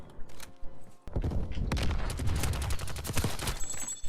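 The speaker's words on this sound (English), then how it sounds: "Now the guns sound incredible." Rapid gunfire from Call of Duty Black Ops Cold War, heard from the shooter's point of view: a dense, loud fusillade of overlapping shots that starts after a brief quiet moment and continues in bursts with sharp individual cracks.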